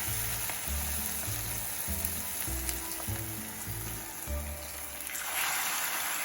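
Hot-water cornbread frying in oil, a constant close sizzle with a low rhythmic thumping of the pan and a brighter burst of frying near the end.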